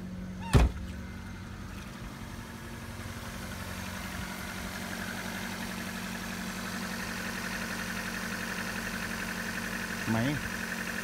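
An imported Kia Morning's engine idles smoothly with a steady, even low hum throughout, a brief thump near the start and a voice speaking over it.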